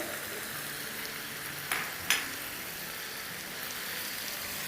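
Chicken with coarsely crushed green chillies sizzles steadily in a pan, with two sharp scraping clicks of a stirring utensil standing out over the even, hissing fry.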